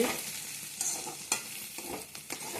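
Onion stalks and potatoes fry together in a pan with a close, steady sizzle, broken by several scraping stirs and light utensil knocks.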